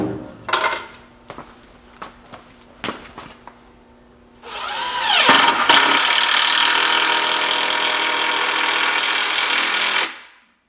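Power drill or driver sinking screws into a heavy duty workbench built to hold a heavy duty vise; a few sharp taps and knocks first, then a loud steady whirring drive lasting about five seconds before cutting off.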